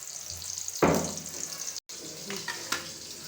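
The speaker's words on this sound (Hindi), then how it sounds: "ये प्याज है, ये प्याज डाल दिया मैंने" Onion dropped into hot oil in a pan while cooking aloo gosht, bursting into a loud sizzle that quickly settles to a steady low frying hiss, with a brief silent gap and a few light clinks.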